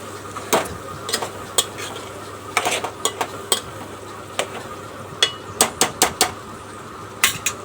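A spoon scrapes and knocks against a pan as chili powder is stirred into a curry, giving scattered sharp clinks with irregular pauses over a faint background hum.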